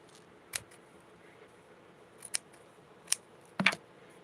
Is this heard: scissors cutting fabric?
yes